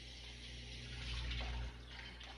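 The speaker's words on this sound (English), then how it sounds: "Let me wash my hands." Tap water runs steadily while hands are washed at a kitchen sink after handling biscuit dough, a soft continuous splash that swells briefly in the middle, fairly faint with no talking.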